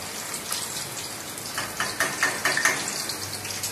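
Paneer cubes frying in oil in a pan while making matar paneer give off a steady close sizzle and hiss, with brief crackling spurts near the middle.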